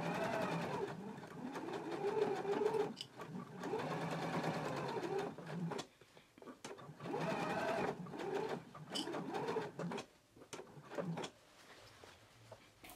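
A sewing machine bastes the raw edges of a jacket together in bursts of steady rapid stitching, close and clear, broken by short pauses and small handling clicks.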